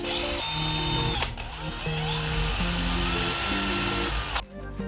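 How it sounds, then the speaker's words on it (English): A power drill drives screws into a wooden staircase handrail, whirring steadily and close for several seconds with slight pitch shifts before stopping abruptly, with no talk. "When we screw that together, we'll tighten that right up."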